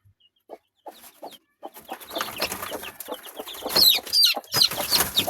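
A hen clucks among her young chicks at close range, with soft scattered clucks at first that build into busier, overlapping clucking and thin high peeps.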